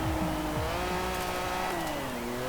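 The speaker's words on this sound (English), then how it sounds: "Sounds a little better as well in terms of the engine noise, even though the revs haven't increased." A car engine in Forza Horizon 4 revs and climbs through the gears, its loud, steady tone rising in pitch with brief dips at the shifts.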